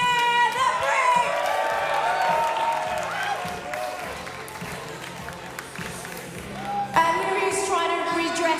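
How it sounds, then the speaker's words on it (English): A live chessboxing crowd cheers, whoops and applauds loudly for a boxer nicknamed the Brick as he is introduced, the roar rising again near the end with an announcer's voice over it. "Give him a big cheer, the Brick!"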